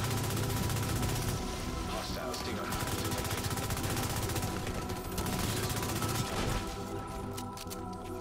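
Rapid automatic gunfire from a striker-build weapon in The Division 2, a shooter game, rattling steadily and densely throughout, with voices talking over the top.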